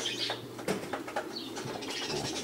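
Racing pigeons returning from a flight flap their wings in quick, fluttering bursts nearby, with soft rustling takeoffs and a faint coo underneath.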